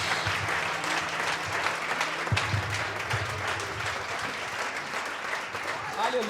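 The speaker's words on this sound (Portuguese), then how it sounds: "Aplauda o nome do Senhor Jesus." A church congregation claps steadily through the whole stretch, a dense wash of hands with a low tone lingering beneath early on and a voice emerging near the end.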